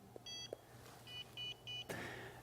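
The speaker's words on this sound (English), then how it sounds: "If I swipe a barcode the Hiku doesn't recognize, I'll get a tiny little beep" Several short, faint electronic error beeps from a Hiku barcode scanner failing to recognize a barcode sound in a quiet room, with a few soft clicks between them.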